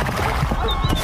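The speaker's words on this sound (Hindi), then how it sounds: "तभी वहाँ पर कलुआ डाकू अपने साथियों के साथ घोड़े पर बैठकर आ गया" Horses bearing a band of dacoits arrive in a comedic Hindi story, with clip-clop hoofbeats and a whinny sounding loud and close over a busy, dense background.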